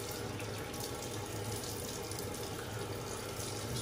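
Tap water runs steadily into a sink during a wet shave with lather, a constant even rush close by with no talking over it.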